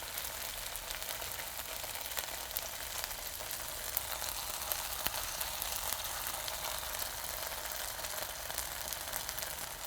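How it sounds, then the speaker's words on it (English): Deodeok root sizzles in a hot pan with a little cooking oil, a steady, close, crackling fry with no talk. "Let's get our deodeok grilling up here."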